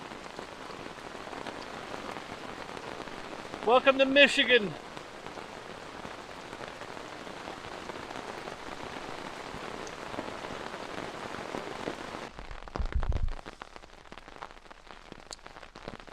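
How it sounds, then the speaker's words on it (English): Hail patters in a dense, continuous hiss of small hard impacts on a camp in a Michigan national forest, steady throughout, with a short spoken remark partway through and a low thump near the end. "That's hail."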